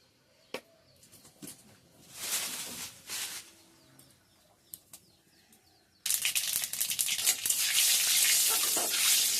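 Boiled bitter gourd fries in hot oil, with scattered crackles and short sizzling swells at first, then a loud, steady sizzle takes over for the last few seconds.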